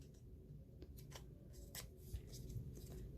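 Scissors cut through a craft foam sheet at an angle, making soft snips scattered across a few seconds, fairly faint and close, with no talking.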